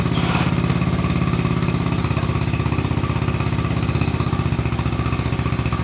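A Honda Trail 70 motorcycle engine starving for gas runs loud and close, a steady rapid putter with a continuous rough mechanical drone that never reaches full throttle.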